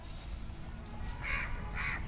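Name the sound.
crow cawing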